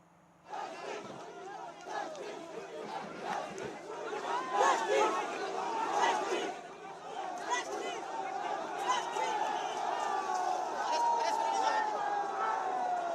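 A large crowd of protesters roars and shouts in a sustained, swelling din as police disperse them with water cannons.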